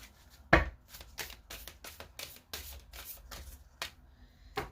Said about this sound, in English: I'm going to pull a Moonology card for the divine masculine.